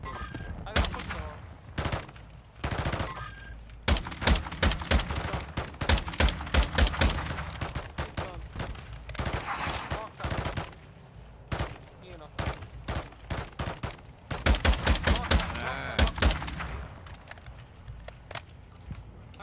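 Rapid gunfire in a video game, with dense volleys of sharp shots and automatic bursts coming in clusters across the whole stretch, loud and close with brief gaps between salvos.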